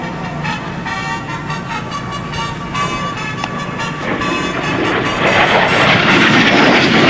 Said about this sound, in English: The aircraft is powered by a VK-1F Klimov, they say, and basically it's like an overgrown garbage disposal.